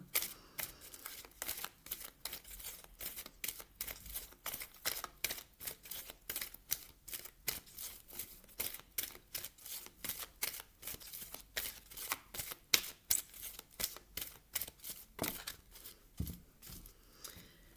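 Oracle cards being shuffled by hand, a long run of quick crisp riffling flicks and slaps in a steady rapid rhythm, close and fairly quiet, with no talking.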